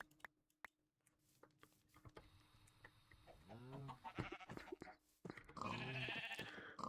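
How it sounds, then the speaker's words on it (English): Sheep bleat in a video game, several wavering cries rising out of quiet background game sounds, the last one louder and closer near the end. "do I want to kill the sheeps that we have over here?"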